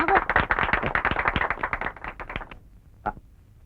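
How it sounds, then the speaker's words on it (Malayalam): Audience applause at a children's magic show, a dense burst of many hands clapping for about two and a half seconds, then fading out, with one brief sharp sound after a short pause. "എല്ലാരും കൈയടിച്ചേ"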